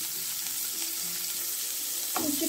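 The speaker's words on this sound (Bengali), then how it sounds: "উচ্ছেটা ভাজা হয়ে এলেই তুলে নিতে হবে।" Bitter gourd pieces frying in hot oil in a pan, a steady soft sizzle throughout with a brief clatter of stirring near the end, close up and with no talking.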